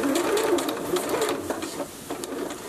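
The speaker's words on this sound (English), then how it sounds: "I'm going to sew over the top of the velcro." Sewing machine stitching over velcro on a 4-H port pillow, a steady close whirring run of rapid needle strokes that eases slightly toward the end.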